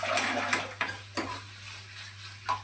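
Tomatoes with salt and turmeric are being sautéed in a pan and stirred with a utensil, giving a few sharp scraping clicks spaced irregularly over faint background hiss, with no talking.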